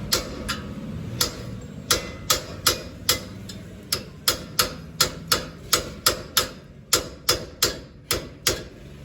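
A hammer driving a chisel against a Nissan Titan wheel hub to knock out the bearing: about twenty sharp metallic blows in a quick, steady rhythm, close and loud, with brief pauses between groups.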